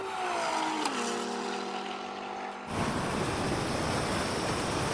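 A tuned BMW M5 or M4 launches in a drag race, its engine droning loudly and building revs before a sudden jump into a dense, roaring wall of noise that holds to the end.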